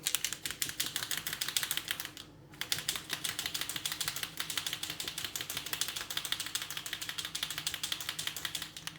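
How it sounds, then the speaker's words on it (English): Metallic alcohol ink bottle shaken hard so the ball bearing inside rattles in a fast, steady clicking rhythm, close and loud, with one brief pause before the rattling resumes. "They're the only inks that need shaking until you hear the ball bearing inside"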